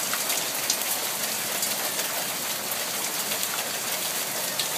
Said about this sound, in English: The hails are getting progressively bigger.